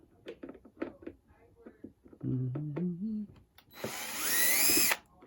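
A power drill runs in one sustained whirring burst, loud and close, backing screws out of the underside of an Arcade1Up arcade cabinet, after a stretch of speech.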